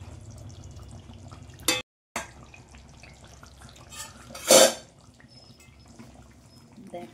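A metal lid is lifted off a pot of raw banana kofta curry, with a brief clatter, a short silence, then a louder clank and sizzle, close by.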